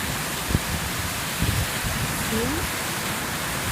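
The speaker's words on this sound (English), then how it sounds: "Guys, it's pouring. Like this. The rain is too much." Heavy rain pours in a steady, dense hiss outside a flooded house, with a few close thumps. A person speaks briefly over the downpour.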